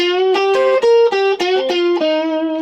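An electric guitar through distortion plays a short riff, a quick run of bent and sliding notes ending on a sustained tone, loud and alone.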